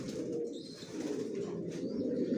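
Young Johnson racing pigeons in a loft cooing softly and continuously, a low close murmur with a faint flutter of wings.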